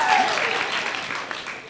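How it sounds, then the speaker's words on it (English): Applause at a nursing school ADN pinning ceremony for the class of 2014, a steady wash of clapping from a crowd that holds for under two seconds while a voice briefly carries over it. "Round of applause for him"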